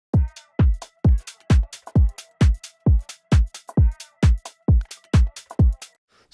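Filtered-down kick drum layered with a garage drum loop, a steady run of about fourteen deep, muffled thumps with light percussive ticks and faint tones between them, close and even.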